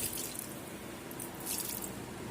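Fertilizer-mixed water is poured onto indoor potted plants, giving a steady hissing trickle and soft splashing that runs continuously at close range without speech.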